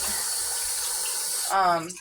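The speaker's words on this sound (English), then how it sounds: "Wait till I get her some fresh water" Tap water running into a dog's water bowl, a steady close rush of flow from the faucet that cuts off near the end, leaving a brief tail of sound.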